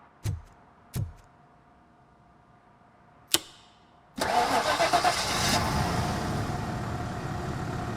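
A car engine in the RoboCop video game starting after a disconnected coil is fixed: a few sharp clicks and a clunk, then the engine catches and settles into a steady, loud running drone.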